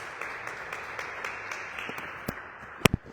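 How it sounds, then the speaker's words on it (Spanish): Sparse, scattered clapping from a small audience welcoming a priest, a few distinct hand claps spaced out over a few seconds and ending with a couple of louder, closer claps. "les pido un aplauso para él"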